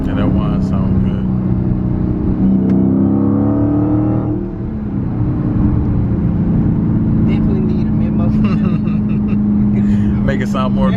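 Dodge Challenger Hellcat heard from inside while driving, a loud, continuous engine drone with a rising tone of the supercharger whine, easing off briefly around mid-clip before building again; faint voices are mixed in.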